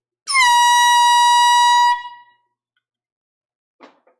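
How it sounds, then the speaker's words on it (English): A loud air horn blasts once for about a second and a half at a live record auction, a steady harmonic honk that cuts off cleanly, followed by silence and a brief faint noise. "It's time for the air horn one more time."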